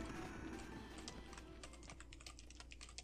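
Rapid computer keyboard key presses during PC gameplay, a dense run of clicks with bursts of quicker tapping over a steady low hum of game audio.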